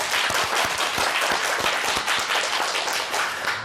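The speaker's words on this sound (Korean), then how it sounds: "이럴 때 박수 한번 딱 치면." A studio audience on a Korean morning talk show claps steadily, a dense, loud burst of applause lasting a few seconds with no talking over it.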